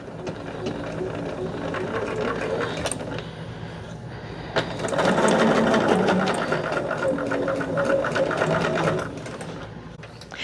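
A sewing machine stitches fabric in a steady, rapid mechanical clatter close by, pausing briefly midway before running again at a slightly louder, faster rate.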